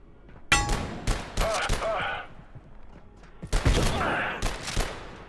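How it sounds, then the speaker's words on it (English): Shotgun blasts ring out in the video game Abiotic Factor, two sharp, loud shots about three seconds apart, each with a brief rattling tail, amid game noise and a faint voice. "Stop shooting me with the shotgun, that hurts."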